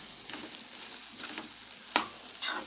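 Potatoes frying in a pan until browned, giving a soft continuous sizzle with light scraping stirs and one sharp clink near the end, fairly quiet and close.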